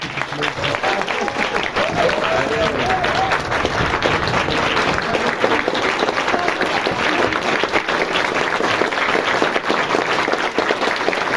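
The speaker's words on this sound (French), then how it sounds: "Applaudissez-le bien à la fois" A cinema club audience welcomes director Alfonso Cuarón with sustained applause before a screening of Children of Men, dense, even clapping from a large crowd with a few voices mixed in near the start.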